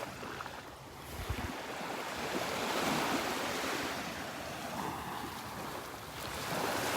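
Ocean waves wash steadily onto a beach in North Naples, Florida, a continuous broadband surf roar that swells and eases over several seconds, with some wind buffeting the microphone and no talking.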